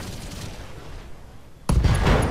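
In a BattleTech video game, a mech fires every weapon at once, medium lasers included: after a quieter lead-in, a sudden loud, crackling burst of weapon discharge hits and keeps roaring to the end.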